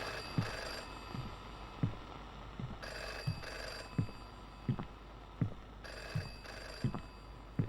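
A telephone rings again and again in a horror video game, bursts of electronic ringing at a slow steady pace, fairly faint and distant, with soft rhythmic thuds beneath it.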